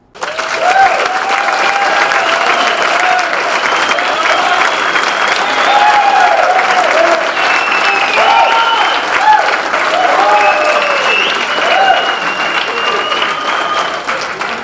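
Sustained applause from a large audience, steady and loud throughout, with a few voices faintly mixed into the clapping.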